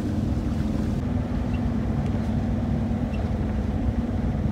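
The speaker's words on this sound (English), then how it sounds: "we actually motor sailed for like 30 minutes before, but just motoring the whole time" A sailboat motors under engine power across calm water with no wind, making a continuous low engine drone and hull noise, loud and steady with no talk.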